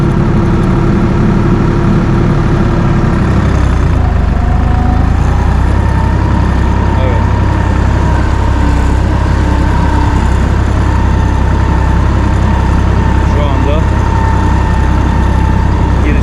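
Erkunt 80.3 tractor engine running at high revs in third gear while driving, a loud, close, continuous droning hum with a steady low rumble throughout.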